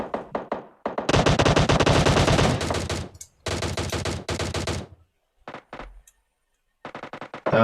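Gunfire in a battle royale video game: long bursts of rapid automatic fire, loud and close, broken by short pauses and scattered single shots.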